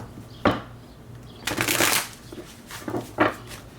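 Playing cards riffle and shuffle in a few quick bursts, close and crisp, with short pauses between them.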